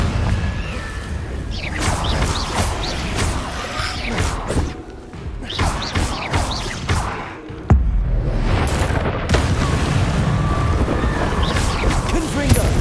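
Confringo blasting spells go off in the Hogwarts Legacy video game, a string of sharp thuds and bursts with whooshes in between. A voice repeatedly shouts over the impacts.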